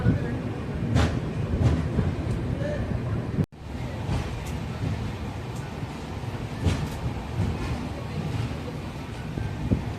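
An express train rumbles through Tiruchirappalli Junction with a steady low roar and faint rail clatter, heard from on board, with a brief dropout partway through.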